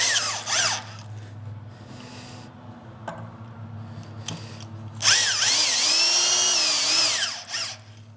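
Power drill driving screws into 4x4 wood posts while building a custom table, with the motor whining in short bursts early on and a long, loud, rising run near the end, with quieter gaps between.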